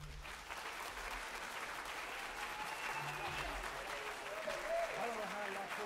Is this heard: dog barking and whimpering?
no